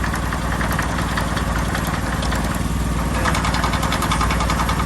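A home-built wood processor's engine runs steadily and loud throughout, a constant mid-pitched mechanical drone with a faint knocking texture and no pauses.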